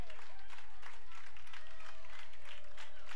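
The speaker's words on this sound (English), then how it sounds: "You can hear them standing and clapping" Spartan fans at an NCAA Division III softball regional game stand and clap with two outs, a dense steady wash of applause and crowd noise filling the whole stretch at moderate distance.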